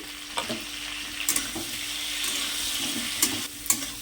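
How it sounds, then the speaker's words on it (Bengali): Cauliflower with salt and turmeric fries in a pan, a soft steady sizzle broken by a few light knocks and clinks of a spoon against the pan. "সব ফুলকপিগুলো দিয়ে দিই, দিয়ে একটু ভালো করে এগুলোকে ভেজে নিই।"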